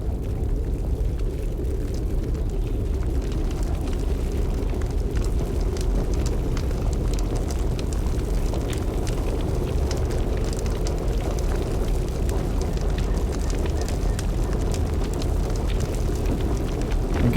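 Fire in the Fallout 76 Nuclear Winter battle royale mode crackles and roars close by, a steady, dense rushing burn with faint ticking crackles that never lets up.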